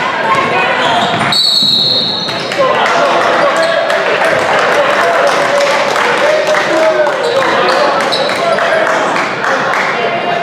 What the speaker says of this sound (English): Crowd got loud and made him nervous